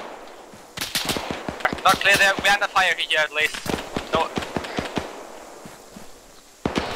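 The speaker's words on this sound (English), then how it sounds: "We're under fire from north, we're under fire from north." Rapid bursts of gunfire during a close-quarters military mission in a video game, with sharp, loud cracks in quick succession mixed with shouting voices and a final burst after a short lull.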